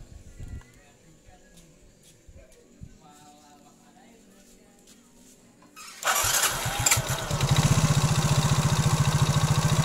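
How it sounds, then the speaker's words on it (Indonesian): A Yamaha motorcycle is started near the end after quiet fiddling and a voice; the engine catches with a sudden roar and settles into a loud, steady, rapid idle putter. "kita coba starter dulu motornya"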